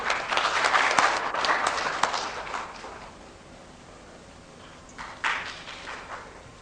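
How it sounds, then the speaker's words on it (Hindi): An audience at a formal function applauds as a guest is welcomed to the dais, a burst of clapping that fades after a few seconds before a brief second patter of claps. "आप सभी से अनुरोध है कि तालियां बजाकर स्वागत करें।"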